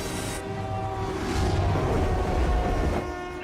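A subway train in Marvel's Spider-Man video game, a steady rumbling roll with a sustained horn-like tone running through it, fairly loud and without speech.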